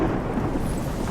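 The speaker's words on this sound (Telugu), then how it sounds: "బ్రో వర్షం పడేలా ఉంది బ్రో." A low, rolling rumble of thunder comes in just before rain and holds steady and fairly loud through the whole short moment, with no voices.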